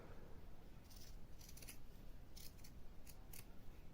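Scissors trimming the ends of a fabric neckband, a series of faint, crisp snips at irregular intervals over quiet room noise.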